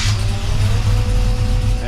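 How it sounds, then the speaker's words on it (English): A Pontiac Firebird with a newly swapped engine idles close by after a cold start, a steady low rumble with slight lumpy pulsing throughout and a brief brighter burst at the start. "Motor sounds great."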